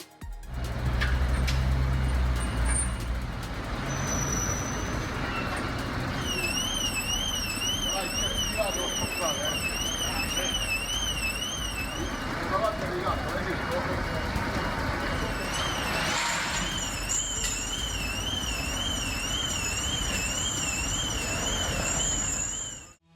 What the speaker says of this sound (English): all to the annoying sound of the car alarm